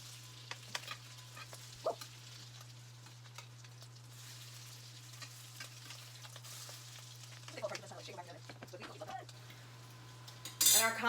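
Salmon cakes frying in a very large pan, a faint continuous sizzle under a steady hum, with occasional utensil clinks and a sharper clatter at the end.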